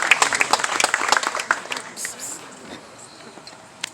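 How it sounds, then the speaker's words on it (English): Audience applause at a Republican club gathering just before a woman sings: a dense burst of clapping that is loud at first, thins out over the next few seconds, and ends in a few scattered late claps. "Let's give a round of applause to Cindy."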